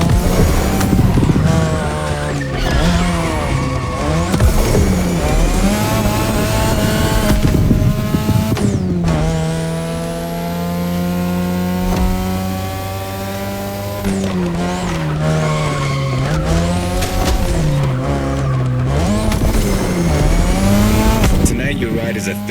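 A 2002 third-generation Mazda RX-7 with a rotary engine in The Crew Motorfest revs hard and loud through rising and falling gear pulls, with long tire squeals and skids, while a voice talks over it.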